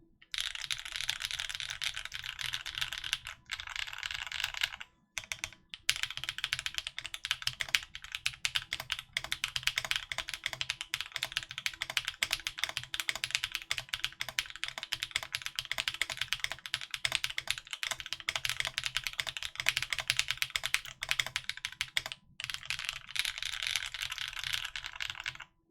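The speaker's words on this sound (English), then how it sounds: "You want a typing test on this?" Fast typing on a Vertex Seal Cosmos Edition full-size mechanical keyboard: a dense, continuous clatter of keystrokes with a few short pauses, close and clear, with no talking.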